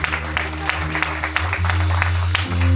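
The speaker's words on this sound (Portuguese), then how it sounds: "Então aplauda o nome de Jesus." A church congregation clapping during a celebration service, rhythmic claps over sustained organ or keyboard tones and a low hum, fairly close and moderately loud.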